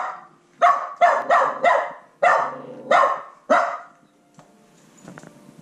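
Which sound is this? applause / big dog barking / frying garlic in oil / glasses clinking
big dog barking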